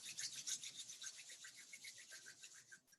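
Palms rubbing together in a slow, steady back-and-forth, producing a soft, close rasping swish that repeats evenly for a few seconds with no voices.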